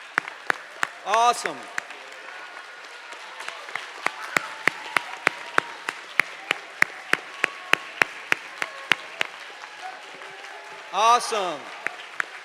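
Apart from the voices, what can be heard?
audience applause welcoming new students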